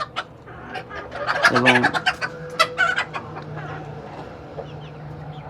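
Native chickens on a small local farm clucking and squawking in quick bursts, close and fairly loud, with a louder flurry early on, and a voice speaking briefly.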